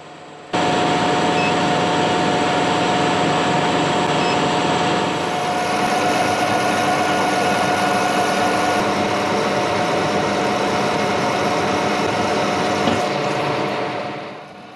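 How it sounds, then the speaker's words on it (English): Metal lathe facing off a steel bar during repair work on an IH 434 tractor, a steady loud mechanical whir and hum with a faint tonal whine that runs throughout, then fades at the end. "We'll start by facing off the bar and zeroing the digital readout."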